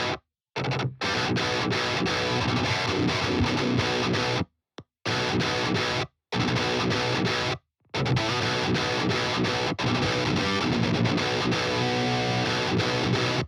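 High-gain electric guitar run through a Bogren Digital AmpKnob BDH (5150/6505-style amp) with a boost pedal engaged, playing loud distorted chugging riffs broken by several abrupt short silences between phrases.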